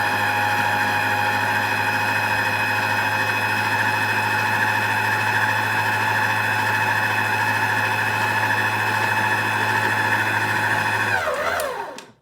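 An electric hand mixer whirs steadily through chocolate chip and desiccated coconut brownie batter, a close, loud, even motor hum that holds for about eleven seconds before spinning down and cutting off.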